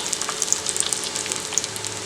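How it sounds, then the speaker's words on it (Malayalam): Long-sliced onions fry in hot coconut oil for fish molee, giving a close, steady sizzle dotted with sharp little crackles and pops. "നീളത്തിൽ അരിഞ്ഞത് ഇട്ട് കൊടുക്കാം"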